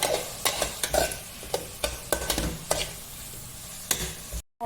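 A ginger garlic chilli paste is stirred through a hot pan for beef biryani, with a steady close sizzle broken by repeated spoon scrapes and knocks against the pan, and no talking.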